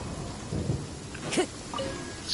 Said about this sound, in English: Let's get out of this fucking damn rain.